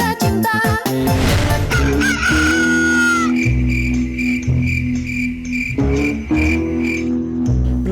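A rooster crows in the predawn hours, its call rising over a steady layer of tonal background music.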